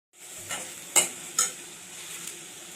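Mustard seeds, cumin, chili and tomato sauté in a hot kadai, a soft sizzle broken by two or three sharp spoon scrapes and taps against the pan, close by with no talk.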